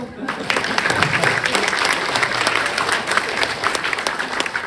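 Audience applause after a talk on sharing, a full, steady burst of clapping from a roomful of people lasting several seconds.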